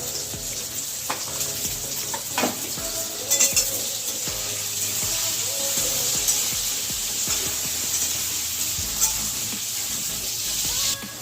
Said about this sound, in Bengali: আলুটা একটু ভাজা হয়ে এসছে